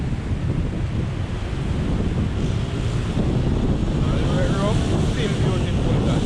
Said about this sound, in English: And just look at the sea.